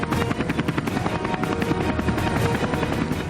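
An army Cobra attack helicopter flying, its rotor giving a loud, steady rapid chop that fills the clip with no talk over it.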